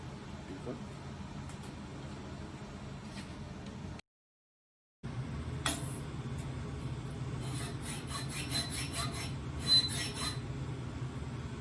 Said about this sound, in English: You hit the back of this with a file for a minute, just clean that up